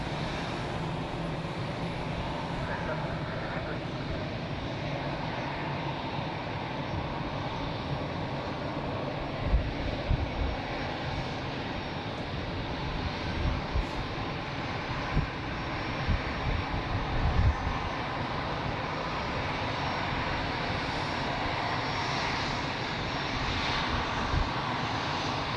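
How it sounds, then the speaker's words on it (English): An Edelweiss Airbus A320 airliner in new livery passes at Zurich Airport, its jet engines giving a steady, broad roar that holds for the whole stretch with small swells, and no voices. "Edelweiss with an A320 in the new livery and the black mask around the cockpit windows."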